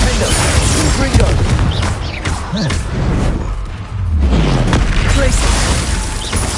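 Confringo spell blasts in the Hogwarts Legacy video game, repeated loud booms and crashing impacts amid busy combat noise, with a voice talking over the action.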